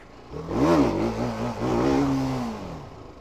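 A TVS Apache RR 310 motorcycle engine revs up and down while lifting into a wheelie with traction control off, a loud, close rising and falling drone with two surges and no talk over it.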